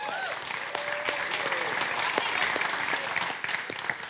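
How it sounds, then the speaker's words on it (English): A church congregation claps steadily throughout, a dense, continuous round of applause from a sizable crowd indoors, with some voices mixed in underneath. "we can clap for them"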